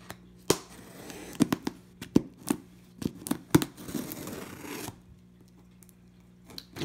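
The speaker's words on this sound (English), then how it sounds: "So I'm gonna go ahead and open up this box here, if I can try to hold the camera and the scissors at the same time." Scissors cut and tear open a cardboard shipping box holding live fish in a series of sharp, irregular snips and rips, close and loud, followed by quieter rustling with no talking.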